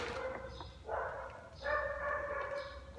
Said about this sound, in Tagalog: Matahol yung aso.